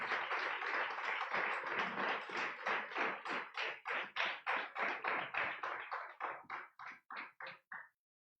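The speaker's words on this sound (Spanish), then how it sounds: "denle un aplauso al Señor" A church congregation clapping in unison, a steady rhythmic beat of sharp claps that continues for several seconds and then stops abruptly, with no talking.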